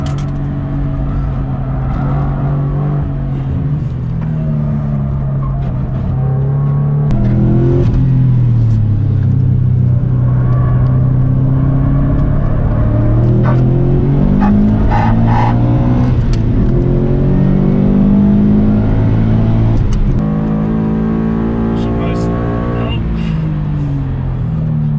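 A Subaru BRZ sliding sideways at high speed while racing a WRX STI gives a loud, constant engine drone with rising and falling revs heard from inside the car.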